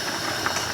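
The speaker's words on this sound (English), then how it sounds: "This is almost done boiling." Pot of fettuccine pasta boiling on a stove, a soft steady hiss of steam and bubbling with faint rattling, alone and moderately quiet throughout.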